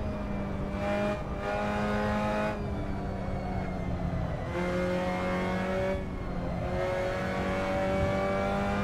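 Simulated race car engine in Assetto Corsa on an outlap, a steady harmonic drone that rises and falls in pitch through gear changes and revs, continuous and fairly close with no voices.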